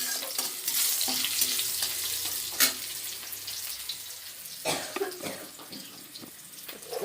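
Green chillies and panch phoron, the Bengali five-spice mix, sizzle in hot oil in a kadai with a bright, crackling hiss up close, broken by a few clattering knocks from the pan and spoon.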